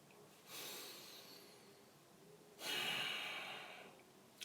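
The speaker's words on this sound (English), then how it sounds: "So let's take a deep breath in again." Two slow, deep breaths drawn in during a calm guided relaxation exercise, each a soft, airy rush lasting over a second, close and quiet with a pause between them.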